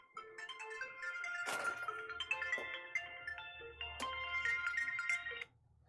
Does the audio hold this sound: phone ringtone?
yes